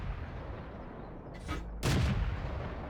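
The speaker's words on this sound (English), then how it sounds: "Ricochet." A tank shell ricochets off armour in World of Tanks, fired at an Aufklärerpanzer Panther: a faint sharp burst, then a louder, harsher impact about half a second later, over a steady battle rumble.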